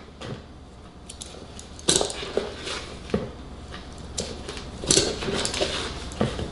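Teaspoons of homemade cornbread mix measured into bags, with light metallic clinks and taps of spoons, soft rustles and scrapes spaced irregularly at close range, fairly quiet.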